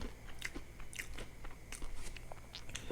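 Raw carrot is bitten and chewed close up, giving several sharp crisp crunches followed by wet chewing, with no talking.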